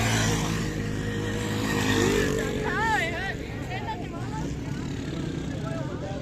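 Motorcycles rev and drone continuously at a desert motorcycle rally in Cholistan, mixed with a crowd's babble, with someone talking over the engine noise.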